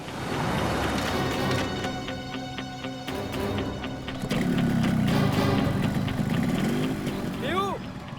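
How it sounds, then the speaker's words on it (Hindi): A motorcycle engine starts and runs steadily nearby, its rough drone continuing under voices and background music. "बाइक स्टार्ट हो गई"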